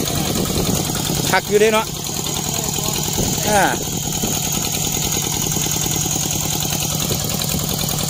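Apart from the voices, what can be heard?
walking tractor with old ET engine running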